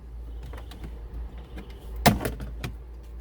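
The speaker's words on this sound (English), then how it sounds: "Starting with the speaker grill, we'll put one of our dash removal tools underneath the edge and twist to help release it." Inside a 2018 Ford Expedition, a plastic dash removal tool pries at a speaker grill, giving small clicks and scrapes and then one sharp snap as the clips release, close and fairly quiet.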